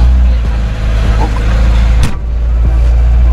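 A car engine idles while warming up after sitting unused for a long time, giving a close, steady low rumble with a brief knock partway through.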